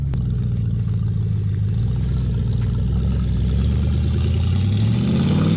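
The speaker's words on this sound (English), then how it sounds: "you guys want to hear the Crown Vic taking off going up that hill" A Ford Crown Victoria's engine roars steadily under load climbing a hill, its low rumble climbing in pitch as the car accelerates, with no talking.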